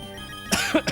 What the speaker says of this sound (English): Oh god, I'm coughing.